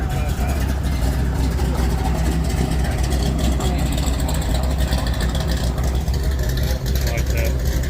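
Cars rumble and idle as they roll out of a Cars & Coffee meet in Beaumont, Texas, a steady low engine drone beneath nearby conversation.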